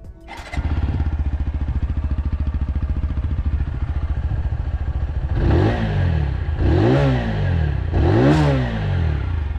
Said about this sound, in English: And let me turn on the engine once.